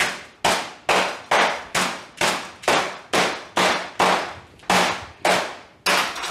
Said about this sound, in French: entre une feuille de papier sulfurisé, un maillet, un marteau, mais moi, ça sera donc une casserole. Et on va venir taper gentiment.